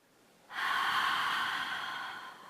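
A single strong exhaled breath during a yoga forward fold, close and sustained, gradually tapering off.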